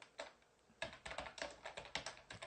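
Rapid typing on a computer keyboard at a desk, with close, crisp key clicks in uneven bursts after a brief pause. No one talks.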